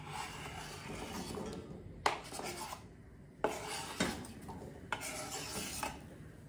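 Tofu hash ingredients slide and scrape into a pan on the stove, giving soft rubbing and stirring sounds punctuated by several sharp clinks of utensil against pan, fairly quiet and close with no talking.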